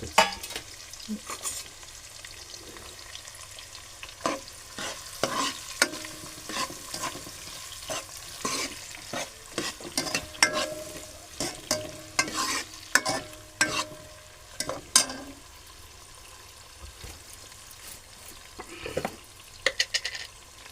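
Onion and tomato cook together in a pan with a little salt. A quiet background sizzle is punctuated by frequent sharp clicks and scrapes of a spatula stirring at an uneven pace.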